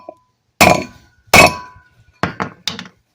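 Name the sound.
hammering out wheel studs on a Geo Metro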